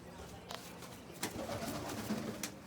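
Pigeons coo in short, soft bursts, with a few brief flutters or thumps mixed in. The sound is faint and distant over a low ambient hum.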